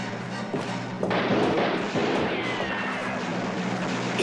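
Muffled shots from old rifles fired by a handful of village men, a few dull thumping reports over a noisy background.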